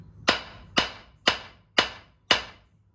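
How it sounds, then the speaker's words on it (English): Five sharp, ringing hammer blows land on metal at an anvil, evenly spaced about half a second apart, each one clear and close with a short decaying ring. "I'm going to drive the hammer without it changing its angle much."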